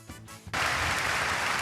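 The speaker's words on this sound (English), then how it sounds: "The auditorium explodes with cheers and applause" A game auditorium crowd bursts into loud, sustained applause and cheering after a brief quieter lead-in, the dense clapping and shouts holding steady to the end.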